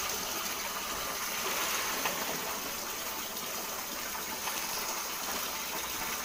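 Water gushes steadily while laundry is being rinsed, a constant hissing rush of flowing water with no pauses, fairly close and even throughout.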